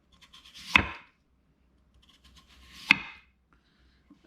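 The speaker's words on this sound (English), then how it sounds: "I just slice it like that" A knife slices through raw chayote squash on a board, two crisp cuts about two seconds apart, each a short sharp snap with a quick decay, close and clear over a quiet room.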